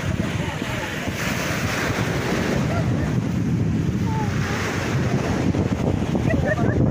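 Steady wash of waves on wide water at the Congo border, constant surf and gusting wind on the microphone, with faint talking underneath.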